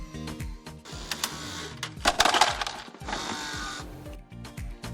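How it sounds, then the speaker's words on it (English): Ice cubes rattling and clattering as they drop into a refrigerator's ice storage box, a busy burst of hard knocks that thickens in the middle, with no speech. "The rattling sound you're hearing could be the ice dropping into the ice storage box."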